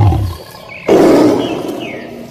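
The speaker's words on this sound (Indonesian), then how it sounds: "mendadak terdengar auman keras dari balik pepohonan" A big tiger gives a loud roar from behind trees in a forest, starting abruptly after a short lower growl and holding for over a second before fading out.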